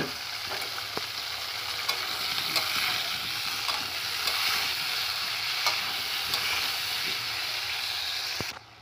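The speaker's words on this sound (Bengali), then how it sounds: "আলুগুলো এবার আমি তেলের মধ্যে দিয়ে মুচমুচে করে আমি ভেজে নেব।" Potatoes fry until crisp in mustard oil in a kadai, giving a steady close sizzle and hiss broken by occasional sharp clicks of stirring against the pan; no one speaks.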